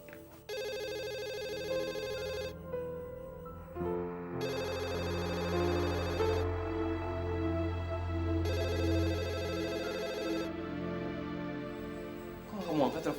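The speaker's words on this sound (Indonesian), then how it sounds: "Kok nggak kamu angkat teleponnya?" A telephone rings in repeated bursts of bright, harmonic trilling separated by short pauses, prominent and close, over a low background hum and a faint murmur of activity.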